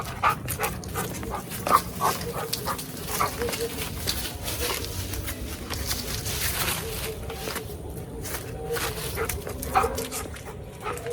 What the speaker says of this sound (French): Je suis avec mon chien.